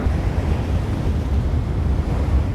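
Sea swell and wind on open water during a helicopter winching operation over a nuclear submarine, a steady loud roar of surf and wind buffeting the microphone throughout, with no voices.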